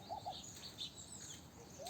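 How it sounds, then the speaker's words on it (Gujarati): Soft morning birdsong in the open among trees, with a koel calling: a few short chirps and gentle cooing calls, fairly faint and distant over a quiet outdoor background. "પક્ષીઓ પણ સવારના છે ને મસ્ત મસ્ત અવાજથી બોલતા"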